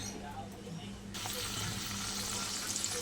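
Spice paste of ground poppy seed, ginger and tomato with turmeric and Kashmiri chili powder hits hot oil for a prawn malai curry, setting off a sudden, steady close sizzle, with a voice speaking nearby.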